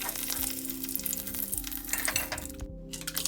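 Paneer frying in a kadai over a low gas flame, a close crackling sizzle with spatula stirring and light metallic clinks, steady and without voices.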